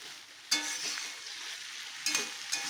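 Halved pabda fish pieces fry in a wok, giving a steady mid-level sizzle with sharper bursts of hiss near the start and twice near the end, and no talking.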